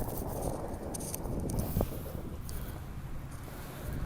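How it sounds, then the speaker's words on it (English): Wind buffets the microphone on a kayak at a boat ramp in a constant low rumble for the whole stretch, with faint splashes and knocks mixed in. "It's pretty windy."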